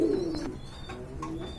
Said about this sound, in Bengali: খুবই সুন্দর একটা গিরিবাজের ভিতরে এটা খাকি কবুতর বলে